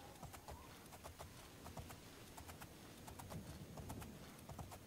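Horse hooves clip-clop in a steady, even rhythm while riding in the video game Oblivion, with crisp repeated hoofbeats over a continuous low background rumble and no talking.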